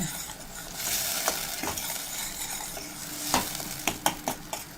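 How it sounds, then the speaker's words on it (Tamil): A spoon stirs a tomato mixture in a sizzling pan in a home kitchen, with steady frying noise and scattered scraping clicks that grow sharper toward the end. "ஓகே, ஒரு 2 மினிட்ஸ் ஆகுதுங்க. கிண்டி விட்டுக்கேன்."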